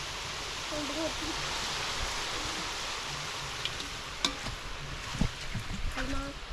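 Murukku fries in hot oil that sizzles and bubbles in a steady, hissing wash, with a few clicks and scrapes near the end and faint voice-like sounds underneath.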